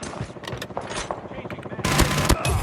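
Automated sentry gun fire in the Call of Duty Mobile Shoot House map during a 10v10 Kill Confirmed match, rapid bursts of gunshots growing louder and denser toward the end, mixed with game voice callouts.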